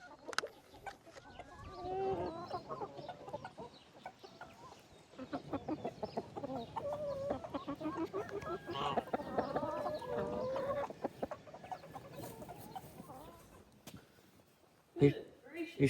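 A flock of backyard chickens clucks and murmurs close by in scattered bursts, with people talking over them and occasional rustling and handling noises.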